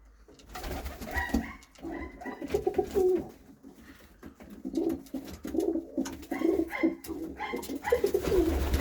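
Pigeons coo in a loft, with repeated soft, throaty calls that overlap in an irregular rhythm, close and fairly loud with no talk.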